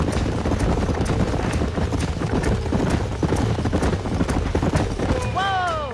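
Horses gallop in Red Dead Redemption, with steady, dense clip-clop hoofbeats throughout. Gunfire crackles in the mix, and a whinny rises near the end.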